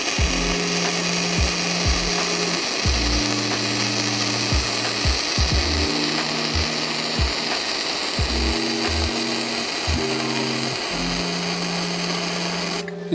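An ANDELI 270 welder lays down a weld bead, a loud continuous crackling hiss running throughout, with irregular lower buzzing tones rising and dropping underneath.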